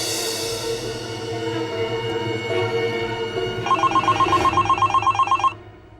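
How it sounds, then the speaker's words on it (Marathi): A telephone rings indoors in a rapid, pulsing electronic trill that starts partway through and stops near the end, loud and close over continuous background music, with no talking. "मॅडमचा फोन आला."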